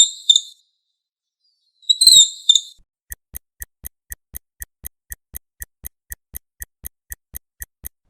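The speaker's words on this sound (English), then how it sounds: "Time's up It's a monkey" A monkey gives two brief bursts of high, shrill squeaking chirps separated by a short silence, followed by a long run of evenly spaced clock ticks.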